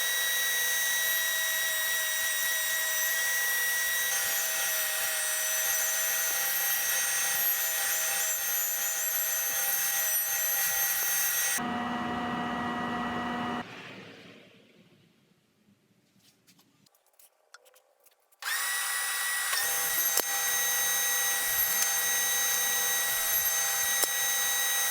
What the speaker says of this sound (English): To start off making the mortises, I took out the bulk of material using Forcenet bits.